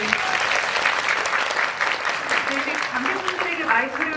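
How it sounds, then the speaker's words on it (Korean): Applause from a movie talk-event audience for two actors of the film Revolver, a steady ripple of clapping with a voice speaking faintly over it. "일단 두 분에게 박수 좀 부탁드리고요"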